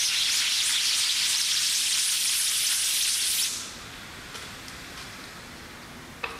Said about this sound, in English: a spray application of 8198 is applied, then brushed into the screen